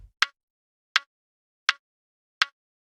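An 80s-style bass drum kick miked from inside the drum, four short, dry, punchy thumps evenly spaced in near silence.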